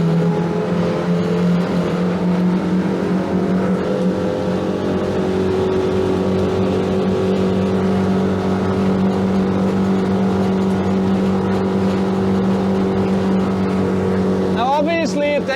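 A motorboat engine runs at full throttle, a loud steady drone with strong harmonics holding throughout, close and continuous, with a brief rising whine near the end.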